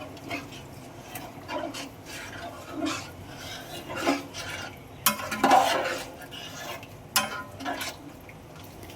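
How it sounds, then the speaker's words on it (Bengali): Stirring chili powder into chicken biryani masala in a pan, with soft scraping and a faint sizzle throughout, plus a couple of sharper utensil clinks partway through. "তারপর এটাকে ভালো করে নাড়িয়ে নেব।"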